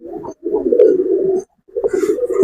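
Rajgolla and fancy pigeons coo in a close, loud run of throaty, rolling calls, broken by a short pause before another burst, with no talk.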